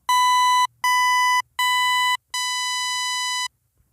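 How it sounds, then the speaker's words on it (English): Four bright, buzzy synthesized pulse-wave tones sound one after another, the first three short and evenly spaced, the last held longer, each cutting off sharply. "Here are some examples of a pulse wave."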